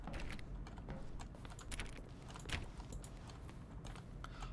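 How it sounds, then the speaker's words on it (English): Button press sounds from the video game The Stanley Parable, each mixing a keyboard stroke with a synthesized tone, heard as scattered faint clicks over a steady low hum. "Each sound is a mix of a keyboard stroke and a synthesized tone."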